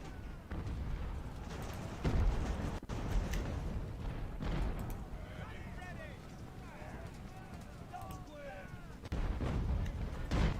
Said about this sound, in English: Their artillery doing some damage against our defending troops